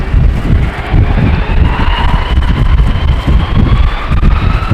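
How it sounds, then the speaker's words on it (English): Strong storm wind buffets an exposed tripod-mounted camera at Amsterdam Schiphol airport, a loud, continuous roar with gusty rumbling across the whole stretch and no speech. "But still, the wind is really hard."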